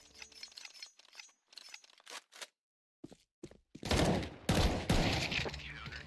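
Gunfire in a competitive shooter video game match: scattered sharp shots and bursts with brief silent gaps, growing denser and louder toward the end, with no voices.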